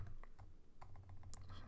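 Keystrokes on a computer keyboard tap out code in a steady, moderately quick run of light clicks, close and fairly quiet over a faint background hum, with no voices.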